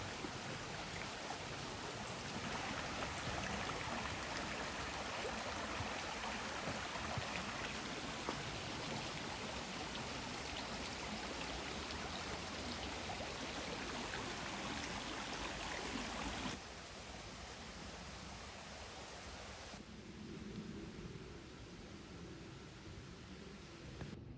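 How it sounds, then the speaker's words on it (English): Steady rushing of a flowing creek along the Indian Boundary Loop Trail in Cherokee National Forest, constant and unbroken, with no voices, easing slightly toward the end. "You hear the creek?"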